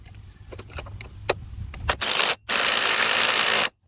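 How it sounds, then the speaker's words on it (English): A wrench tightens the lower mounting bolt of a shock during a truck leveling kit install, a few quick mechanical clicks and scrapes followed by a long, loud, steady hiss near the end. "now we'll go ahead and finish and tighten up that bottom bolt."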